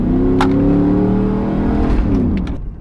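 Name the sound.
Chevrolet Silverado engine revving on test drive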